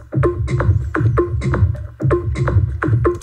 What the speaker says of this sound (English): This is just sort of a percussive sort of normal loop,